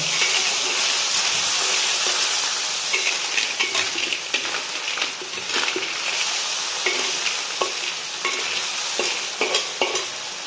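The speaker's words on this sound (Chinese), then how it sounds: "倒入我们准备好的这个料酒， 继续翻炒均匀" Loud, steady sizzling and scraping as a Luosifen soup base is stir-fried in a pan after cooking wine is poured in, with a spatula clattering in irregular strokes throughout and no talking.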